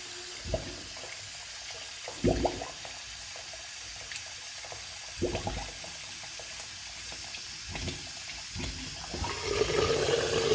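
A filled sink drains after its stopper is released: a steady rush of water runs close by, broken by several short gurgling bursts that swell again toward the end, with no voices.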